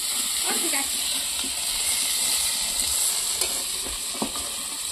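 Potatoes frying in a pan on a home kitchen stove, a steady close sizzle and hiss with a few soft clinks of stirring, alone throughout.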